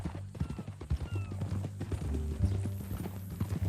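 Horse hooves clip-clopping in Red Dead Redemption 2, an irregular walking rhythm of soft thuds near the listener, with a brief whinny-like tone and light ambient background.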